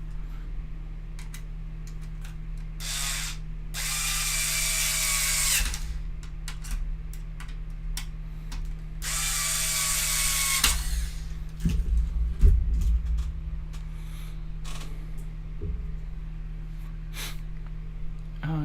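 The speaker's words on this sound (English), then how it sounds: "I keep forgetting to use the drill screwdriver." Cordless drill screwdriver driving screws while building a Tamiya MB-01 radio-control car chassis, with two bright whirring bursts of a few seconds each over a steady low hum, followed by scattered small clicks and handling noises.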